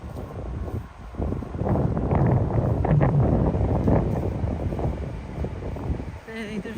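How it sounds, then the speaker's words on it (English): Strong wind buffeting a microphone outdoors near Stirling Castle in Scotland, a rough, continuous low rumble that swells and dips over several seconds. "It was just too windy."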